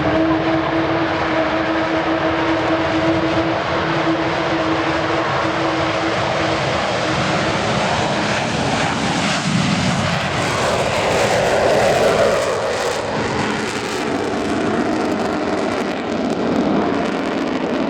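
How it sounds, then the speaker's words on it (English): Avro Vulcan XH558 jet bomber flying an air display at RAF Waddington, a loud, steady, rumbling jet roar that swells and shifts in pitch as the aircraft passes overhead. "it's the world's sole flying example of what was for a while a part of Britain's strategic nuclear deterrent, Avro Vulcan"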